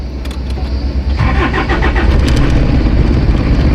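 An old car engine around forty years of age at a service station, starting with a rough low idle and then rising into steady revving with a busy mechanical clatter, close and loud throughout with no voices.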